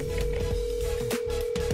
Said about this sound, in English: I'm going to call him, start crying on the phone, and then abruptly hang up.